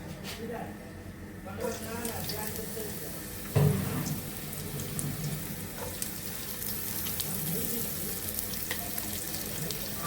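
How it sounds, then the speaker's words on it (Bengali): Chopped onion, green chili and garlic fry in oil in a home kitchen pan, giving a soft, steady sizzle with occasional stirring clatter while a person talks over it. "পেঁয়াজ কাঁচামরিচ রসুন পেঁয়াজ ভাজা হচ্ছে এটা ভেজে নিচ্ছি"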